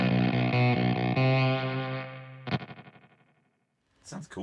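Electric guitar through a Valco fuzz pedal with a short delay sounds a few fuzzy sustained notes, then a struck chord whose repeats ripple and decay rapidly. After a brief silence, a short burst of other sound follows.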